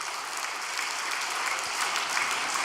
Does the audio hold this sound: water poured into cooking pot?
no